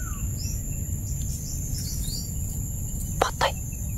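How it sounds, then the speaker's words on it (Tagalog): Outdoors at night, a bird gives two short, bright calls close together near the end. They sit over a loud, constant chorus of crickets and insects, and a thin high whine runs throughout. "Ibon ni Isul nakabantay sa amin mga kaibigan"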